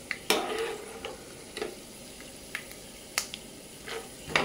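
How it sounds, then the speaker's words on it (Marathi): Peanuts roasting in groundnut oil in a pan over a low flame for chivda, giving a soft steady sizzle broken by sharp stirring scrapes and clicks every second or so, close and fairly quiet, with no talking. "असं थोडेसे लाल असर होईपर्यंत मी भाजून घेणार आहे शेंगदाणा तेलामध्ये."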